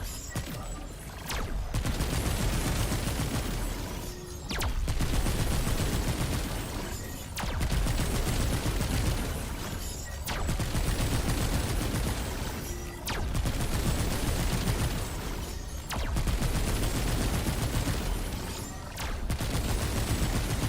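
Sustained gunfire in Remnant 2 as the ground is shot, dense bursts of rapid shots pouring out loud and close in long waves separated by brief pauses, with no talking over it.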